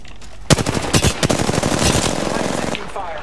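Automatic gunfire in Apex Legends, with a sudden loud burst of rapid shots followed by sustained fast firing at close range, and a player talking over part of it.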